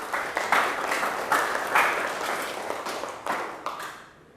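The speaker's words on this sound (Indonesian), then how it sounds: "tepuk tangan untuk Rizky." Schoolchildren in a classroom clap for a classmate, lively uneven applause with bursts of louder claps that tapers off at the end.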